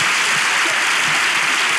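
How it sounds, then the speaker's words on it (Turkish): A studio audience claps for a guest on a talk show, a thick, loud burst of continuous applause that stays even throughout. "Alkışlayalım şuraya Allah'ın seversen."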